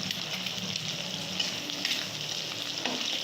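Eggs frying in a pan for egg fried rice, broken up with a spatula: a steady bright sizzle with soft scraping and a few clinks, close and constant, no talking.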